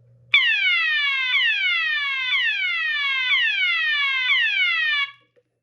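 An Edwards fire alarm under test sounds loud and alone, a repeating descending electronic sweep tone in five even cycles of about one second each, then cuts off abruptly.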